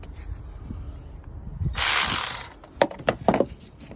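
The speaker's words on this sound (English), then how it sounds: "loosened up with a ratchet, 10mm socket" A ratchet wrench with a 10mm socket loosening valve cover bolts on a semi truck, giving a burst of rapid clicking followed by several short, sharp ratcheting clicks close by.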